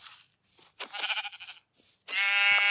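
A white sheep in a video game bleats several times in quick succession, loud and close, with short gaps between the calls and no voices.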